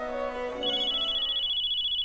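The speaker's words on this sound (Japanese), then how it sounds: "電話。" A phone rings in the video game Code Geass Lost Stories, where soft background music fades into a steady, pulsing electronic ringtone that repeats evenly and sits clear and alone.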